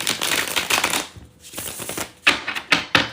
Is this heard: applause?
no